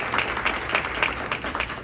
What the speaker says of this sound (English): I think it's a massive applause.